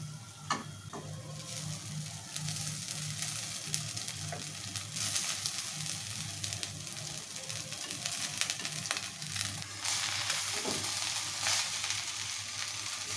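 Soya chunks with ginger-garlic paste sizzle and fry steadily in a pan for a long stretch, with scattered scraping and ticking stir sounds and a brief louder clatter partway through; no one speaks.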